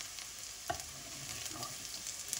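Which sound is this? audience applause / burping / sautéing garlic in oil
sautéing garlic in oil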